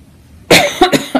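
A person with a lingering cold coughs several times in quick succession, close and loud, short harsh bursts after a quiet moment.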